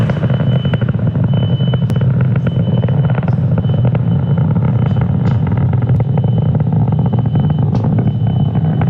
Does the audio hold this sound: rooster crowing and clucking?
no